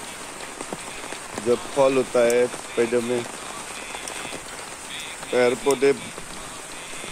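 Rain falls steadily on surfaces outdoors among trees and plants, a constant hiss that continues beneath a man's intermittent speech.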